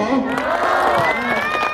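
Wedding guests cheering and clapping in a banquet hall, a brief loud burst of crowd whoops and shouts with applause mixed in, voices rising together.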